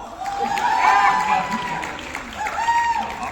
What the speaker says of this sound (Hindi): जोर की तालियां बजाओ।